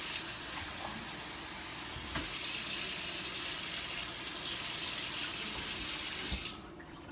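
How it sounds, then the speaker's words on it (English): Warm water running from a tap into a bowl for wheat bun dough, a steady close hiss lasting several seconds, then cutting off near the end. "So you're going to start off with 1 cup of warm water."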